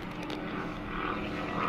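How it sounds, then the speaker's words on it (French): A small propeller plane drones overhead, a steady broadband engine hum that swells slightly toward the end, heard near a greenhouse where a mare is being worked. "Un petit avion."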